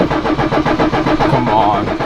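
A 1977 Toyota Celica engine catching on its first start after sitting for years, a loud close rough rumble that settles into an uneven mid-pitched run, with a voice talking over it.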